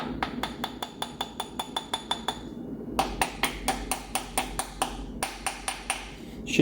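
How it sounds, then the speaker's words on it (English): Metal hammer gently tapping a camshaft key into place on a 360 Magnum long block, a rapid series of bright metallic pings, about two dozen evenly paced taps with a brief pause midway, close and without speech. "Gonna have to gently use a metal hammer."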